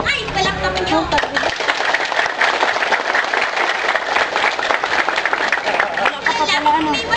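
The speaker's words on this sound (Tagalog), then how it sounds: "hiling ay palakpakan nyo." A school Buwan ng Wikang Pambansa 2011 audience breaks into loud, dense applause and cheering. A voice talks over the start and again near the end.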